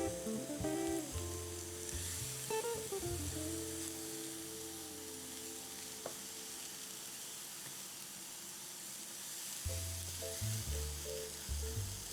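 Food frying in a pan after being flipped: a steady, close sizzle and hiss that runs throughout, with brief clinks and scrapes of a utensil against the pan at the start and near the end.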